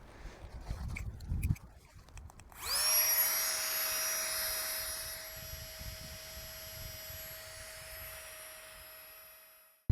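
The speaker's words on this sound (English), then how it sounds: "I'm going to use my Flex Tail Gear Tiny Pump X to blow my mat up" A Flextail Tiny Pump X electric pump starting up with a click and settling into a steady high-pitched whirring hum as it inflates a sleeping mat at a wild camp, close and continuous, slowly fading toward the end.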